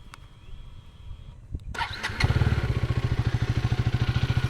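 A heavy motorcycle, weighing over 150 kg, is started after being dropped: a few clicks and a short cranking, then the engine catches into a loud, close, pulsing idle.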